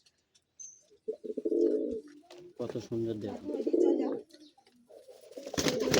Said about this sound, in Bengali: এক সেট কালদমা কবুতর